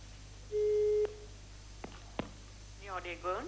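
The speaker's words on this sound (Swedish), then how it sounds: "Nu ringer vi." Telephone line on a 1999 Swedish bingo TV broadcast sounding one steady ring tone of about half a second, followed by a few faint clicks and then a voice speaking.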